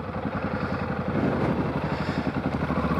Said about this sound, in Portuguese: vou estacionar a moto